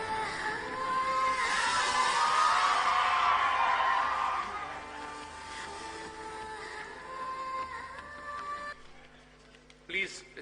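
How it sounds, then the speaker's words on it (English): A large crowd at an Indian student parliament gathering hoots, whoops and yells for an arriving speaker, a loud sustained roar with shrill cries that peaks early, then fades and breaks into scattered shouts. "Please do not hoot and whistle, my friends."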